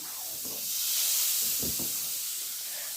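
Butter sizzling in a heated frying pan while making toast, a steady bright hiss that swells slightly midway, with a few faint low clatters beneath.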